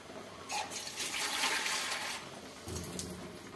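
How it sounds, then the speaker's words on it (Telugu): Water is poured into a cooking pan of tomato curry in a home kitchen. It gives a short, splashy gush that rises, tapers off, then returns briefly, heard up close with no talk. "ఇప్పుడు మనకు సరిపడా నీళ్ళు వేసుకోవాలి"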